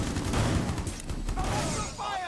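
Continuous rattling gunfire in a video game, coming from a hostile automated camera turret aimed at the player. It sounds fairly close and steady, with muffled voices under the shots.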